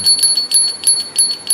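Gentle, steady ringing of a small hand bell, each soft strike ringing out at a calm, regular pace, heard up close and alone.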